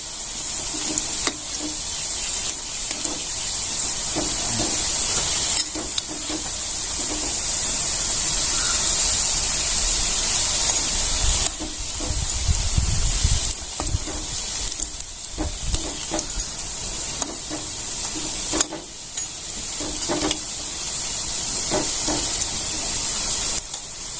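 Bhaji fritters with green chillies deep-frying in hot oil on a stove, a loud continuous sizzling hiss with crackling bubbles and occasional stirring or spoon scrapes.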